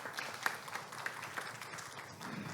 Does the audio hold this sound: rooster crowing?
no